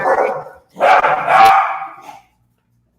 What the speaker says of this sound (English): They're barking at my son, who's out on the patio.